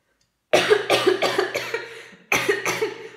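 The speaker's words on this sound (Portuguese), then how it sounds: "Opa, deu vontade de tossir." A burst of several harsh coughs in quick succession, then a short pause and another round of coughing, close and loud.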